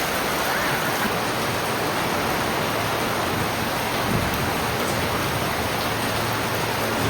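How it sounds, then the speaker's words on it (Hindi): Heavy rain pouring down at night, a dense, steady hissing roar of water that stays loud and unbroken throughout. "रात के 3 बज चुके हैं और 3 बजे से ही बारिश शुरू हो गई थी, वो भी झमाझम वाली।"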